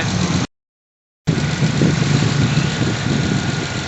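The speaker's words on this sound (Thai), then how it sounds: "ตอนนี้ก็ติดเครื่องรถเรียบร้อยนะ" A car engine idles steadily after being started, a continuous broadband rumble that cuts out briefly before returning at a constant level, with no talk over it.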